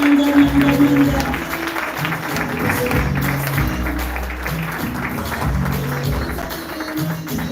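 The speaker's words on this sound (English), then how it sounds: "with a huge round of applause" At a business training kickoff event, an audience gives a big round of applause as an executive walks to the stage, steady clapping mixed with background music.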